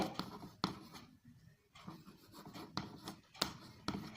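Pen scratching on paper while a frequency distribution table is written out, quiet irregular strokes and taps with short pauses between bursts.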